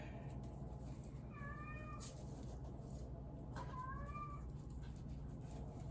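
A cat meows twice, each call a rising-then-falling wail at moderate distance, heard over a steady background hum with no talking.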